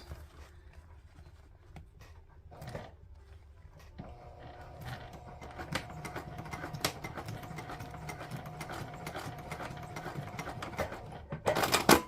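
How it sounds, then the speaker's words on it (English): A sewing machine top stitches next to a D-ring connector, starting with a few short bursts and then running into a steady, fairly quiet mechanical whirring and clatter close by. "I'm going to top stitch as close to this D-ring connector as I can get"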